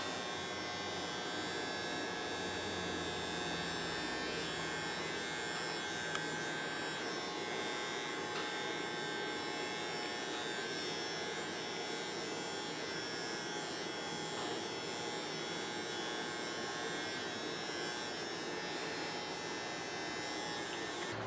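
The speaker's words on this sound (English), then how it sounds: "I want to make sure there's no excess hair whenever I go to use my trimmers." Electric hair trimmers buzz steadily and close up throughout, a continuous even motor whine with a mains-like hum, during a taper haircut in a barbershop.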